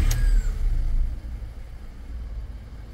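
A VW Polo 4 with a 1.2 petrol engine and its check-engine light lit runs at idle, a steady low rumble that settles after a brief louder start, close and with no voices.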